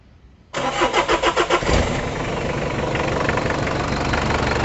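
Mitsubishi Kuda 2.5L diesel engine cranks in several quick rhythmic pulses, catches and settles into a loud, steady, knocking diesel idle, with a leaking exhaust adding a chuffing tone close by.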